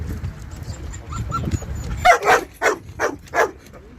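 A German shepherd barks in a market setting, five loud, close barks in quick succession after a stretch of low background rumble and faint yips; no speech.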